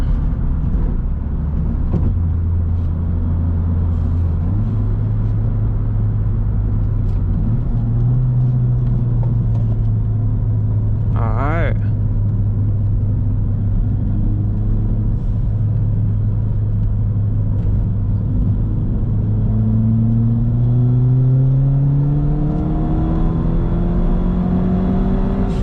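Ford Fiesta ST engine taken through a corner, a steady loud in-car drone whose pitch steps up and sweeps higher as the car pulls out, with road rumble underneath throughout.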